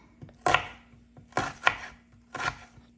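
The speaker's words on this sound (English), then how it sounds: "So the onion is now peeled, and we need to cut it up so we can fry the onion" A knife chops through a peeled onion on a board, three distinct close thuds spaced about a second apart with crisp cutting crunches, no talk.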